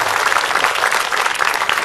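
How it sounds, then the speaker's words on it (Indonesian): Audience applause on a televised dawn Islamic lecture program, a dense steady clapping that fills the whole short stretch at an even, loud level. "Tepuk tangan sekali lagi dong buat Ustadz Abdul Kafi dan juga Syakir Daula"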